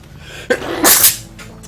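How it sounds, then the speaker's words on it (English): A single sharp sneeze, preceded by a quick intake of breath, loud and close. "I feel a sneeze coming on."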